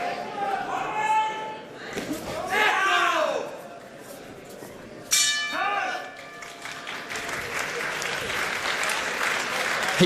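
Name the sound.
boxing corner crowd cheering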